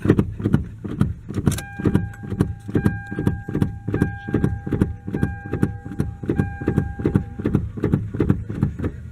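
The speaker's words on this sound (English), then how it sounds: "start pumping the brakes rapidly, as fast as you can, then turn the ignition on and keep pumping the brakes" Rapid, evenly spaced thumps from a brake pedal being pumped in a 1997 Toyota Camry, about two per second, with steady electronic chime tones and a brief click as the ignition key turns.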